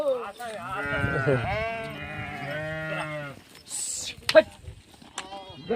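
A few wavering bleats from pregnant sheep close by, mixed with voices talking, followed by quieter scattered noises.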